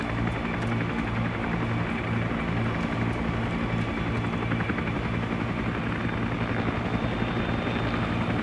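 A UH-1 Iroquois helicopter flies in the ARMA video game, in a Khe Sanh mission. Its rotor thumps steadily and loudly under a constant engine whine for the whole stretch, with no talk.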